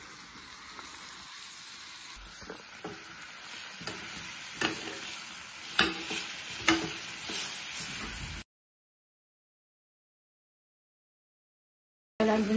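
Chicken with salt and ginger garlic paste sautéing in a pan for a Madurai-style chicken chintamani, a steady close sizzle with stirring scrapes, then silence before the sizzle briefly returns.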